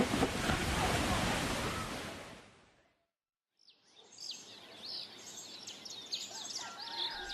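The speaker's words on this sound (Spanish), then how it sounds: "las enormes olas siguieron arrasando todo el litoral" Large tsunami waves surge along a coastline in Indonesia, a loud broad roar that fades out completely after about three seconds, then returns as softer wash with wind and high bird-like calls over it.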